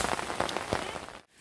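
Heavy rain patters steadily on a road in a dense, hissing wash with small splashing bursts, then cuts out abruptly near the end.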